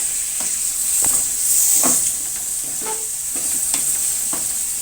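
Minced keema stirred and fried in oil for dum keema, a steady sizzle broken by repeated scraping stir strokes of a spoon against the pan, close and fairly loud, with no talking.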